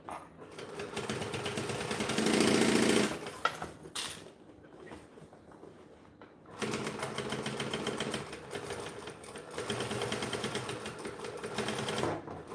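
A sewing machine backstitches bonded nylon fabric in two fast, steady rattling runs, separated by a short quiet pause with a few clicks.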